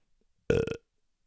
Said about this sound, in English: Burp into the mic.